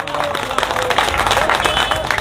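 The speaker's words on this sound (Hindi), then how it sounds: "शायद तालियां बज जानी चाहिए" Crowd applauding a speaker at a Hindi-language address, dense continuous clapping at close range with scattered louder claps, no talk over it.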